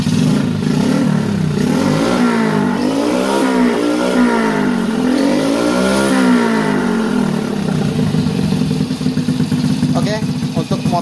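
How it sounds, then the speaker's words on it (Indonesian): A motorcycle engine running with heavily smoking exhaust, a loud, close, continuous idle with slight revs throughout, while someone talks over it. "untuk motornya dalam keadaan hidup, teman-teman bisa lihat itu pada knalpotnya asapnya sangat ngebul sekali"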